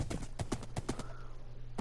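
Horse hooves galloping fast in a video game, a quick run of close, crisp clip-clop beats over a low steady hum.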